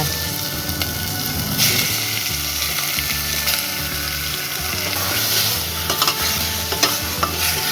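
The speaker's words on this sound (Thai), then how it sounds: "ใส่หมูลงคั่วเลยค่ะ" Pork stir-fried in a pot with garlic, pepper and coriander root, a steady loud sizzle with continuous scraping and stirring, occasional clanks of the utensil against the metal.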